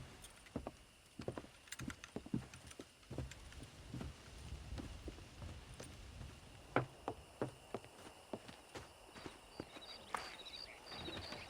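Horse hooves clip-clop in the Red Dead Redemption video game, a quiet, uneven run of light taps and thuds with faint jangling, heard alone without voices.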